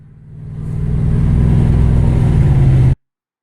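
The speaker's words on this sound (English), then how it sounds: "Dad driving off on it" A 1978 Mercedes 450SEL 6.9 pulls away alone, its big engine rumbling low and swelling in a steady rising drone as it accelerates, then cutting off abruptly.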